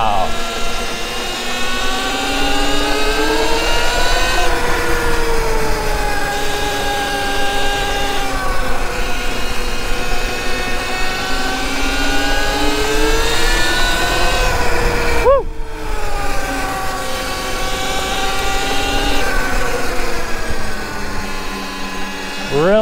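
Sur Ron electric bike motor straining up a hill, a loud steady whine that rises and falls in pitch as the load changes, close and continuous, with a brief drop midway.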